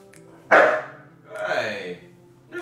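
A husky dog gives a sharp loud bark followed by a drawn-out, howling vocalization, close by indoors, with another short yelp starting at the end.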